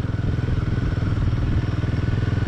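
Motorcycle ridden on a rough mountain road cut through rock in the Himalayan valley near Chitkul, heard as a steady close engine drone with clattering and thumping from the bumpy surface, no talk.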